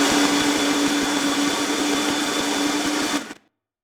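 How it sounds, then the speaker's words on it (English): Electric blender whirring through a fruit smoothie mix, a loud steady motor whine with a grinding buzz that runs continuously, then cuts off abruptly near the end. "Turn on the blender and that's it."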